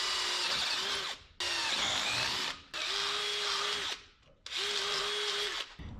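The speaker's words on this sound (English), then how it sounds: "Should have drilled that hole a little lower" A power drill bores a hole through wood for a step, whining loudly and close in four long bursts separated by short pauses, with the motor pitch dipping slightly as the bit bites.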